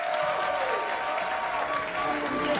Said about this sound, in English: Another round of applause for your 2022 Continental Cup champion, Alex Spellman.